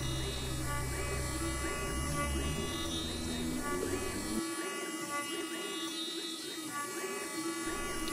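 A CNC machine mills a climbing hangboard with a steady, buzzing whine and high tonal overtones. A low rumble drops away partway through while the cutting hum continues evenly.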